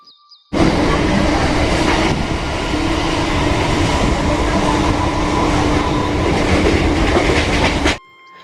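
The loud, constant rumble and rattle of the moving Saraighat Express from inside a carriage, wheels clattering steadily for several seconds before it drops away.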